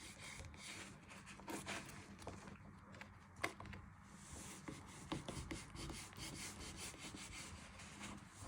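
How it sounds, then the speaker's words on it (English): A knife trims the crusts off bread slices for bread and butter pudding, giving repeated close, scratchy sawing strokes against the crust with a few sharper scrapes. "But you're just going to finish off trimming all your edges off your crust."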